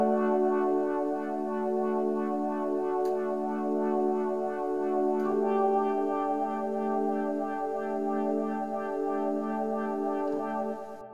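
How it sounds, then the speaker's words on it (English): A modified Arturia CS80 synth preset called Living Water plays a sustained, harmonically rich pad that holds steady and alone for about eleven seconds with gentle swells. "the first layer is the Arturia CS80, and it's a preset called Living Water"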